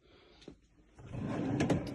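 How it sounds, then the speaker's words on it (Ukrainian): Chipboard drawers on telescopic runners pulled fully out of a children's furniture chest: a brief knock, then a smooth rising sliding rumble that runs to the end, close and moderately loud. "Направляючі телескопічні. Ось шухлядки повністю витягаються."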